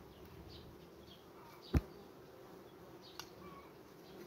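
Honeybee colony humming at the hive in late sunflower season, while the beekeeper tends swarms. The drone is faint, low and steady throughout, broken by one sharp knock near the middle and a smaller tap later.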